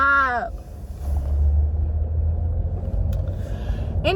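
A car rumbling along with a low, steady engine and road drone filling the whole stretch, short vocal sounds at the very start and end.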